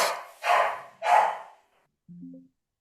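A dog barks three times in a steady rhythm, loud and fairly close, followed by a shorter, softer yip or whimper after a brief pause, with no talk over it.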